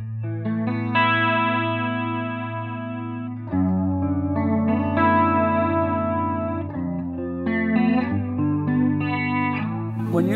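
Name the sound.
electric guitar through a chorus/flanger-like PRS pedal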